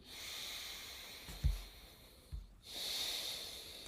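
A full breath in and out during a yoga breathing exercise, a long airy hiss of inhalation, a short pause, then a second steady hissing breath, close and soft, with a couple of low bumps in between.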